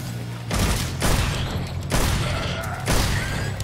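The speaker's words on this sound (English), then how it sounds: "I kinda like the sound of the gun." Gunfire from a gun in Devil May Cry 5 rings out as four loud, close volleys, each a dense burst of rapid shots separated by short gaps, with no talking.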